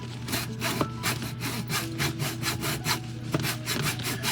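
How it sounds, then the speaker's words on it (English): Fine strokes of a small hand saw cut through a scored line on a 1:400 scale ship model, a steady rhythmic rasping of about a dozen quick back-and-forth passes, close and clear over a low hum. "We're going to cut just enough just to make sure it's through."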